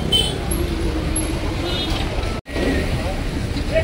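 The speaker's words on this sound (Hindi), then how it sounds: "बहुत ज़्यादा भीड़ है, बहुत ज़्यादा ट्रैफिक है" Heavy road traffic on a crowded street, a dense continuous rumble of vehicles with faint clinks, while someone talks over it close to the microphone; a brief dropout cuts the sound midway.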